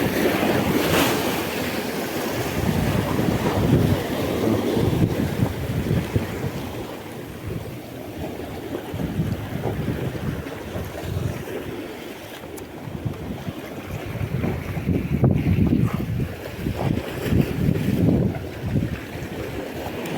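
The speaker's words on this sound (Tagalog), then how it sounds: "lakas ng alon kasi" Loud ocean surf rolls and crashes continuously against rocks, with surges building and easing amid gusting wind noise. Nobody speaks.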